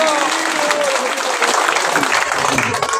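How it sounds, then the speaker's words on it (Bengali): An audience at a Krishna Consciousness reception breaks into vigorous, dense clapping, loud and continuous throughout with a murmur of voices beneath. "জোরসে জোরসে হাততালি দিন"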